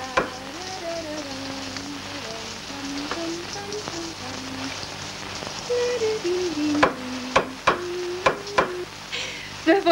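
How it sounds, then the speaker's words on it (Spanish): Steady rain falling in a scene from the 1969 film Eloy, a soft constant patter with occasional sharper drips, heard under background music and a few louder knocks near the end. "Está lloviendo."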